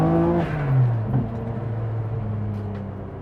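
A tuned Nissan Skyline GT-R R33 with an RB26 engine, turbo and changed cams, revs up then settles, a loud, close droning tone that rises and falls with a whirring edge.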